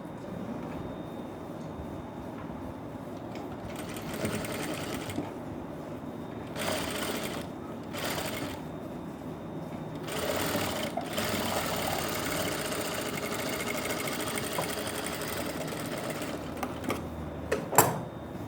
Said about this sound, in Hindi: सिंगल सिलाई लगानी है आपको ऐसे